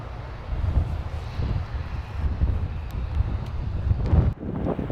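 Steady wind gusts buffet the microphone at an airport, standing behind a Boeing 787, a continuous low roar with broadband rushing that swells and dips, strongest near the end, with no talking.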